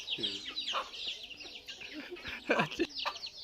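Chickens in a rural farmyard cluck and chirp repeatedly nearby, including a rooster, in short irregular bursts, with people talking in the background.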